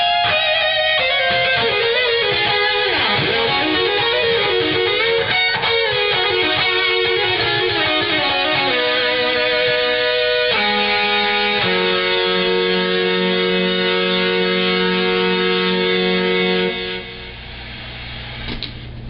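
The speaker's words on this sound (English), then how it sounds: "you can plug a distortion pedal in, and when you do that, it sounds a little something like this right here." Distorted electric guitar run through a Digitech HR2 HarmonyMan harmony pedal and a distortion pedal, playing sustained harmonized notes and chords with sliding pitches, loud and dense, ending on a held chord that slightly fades.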